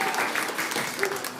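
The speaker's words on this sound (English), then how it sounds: "Round of applause for Anna." An audience at a grand final challenge event claps in a brief, even round of applause for a contestant, a continuous patter of many hands heard alone.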